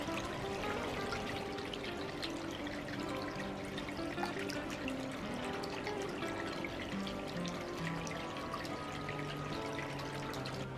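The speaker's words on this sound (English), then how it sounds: "my wonderful little Japanese water feature" Continuous trickling and splashing water from a small Japanese-style garden pond feature, steady and close, with no pauses or voices throughout.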